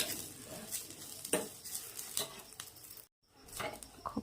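A spatula scrapes and stirs thinly sliced dry coconut roasting in a pan with a soft, continuous sizzling hiss, close by, with one brief silent gap.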